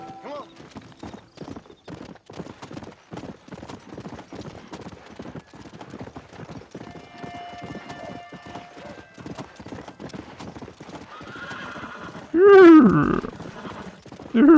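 Horse galloping in the Red Dead Redemption video game, with steady, close hoofbeats clip-clopping throughout and a loud whinnying neigh rising near the end.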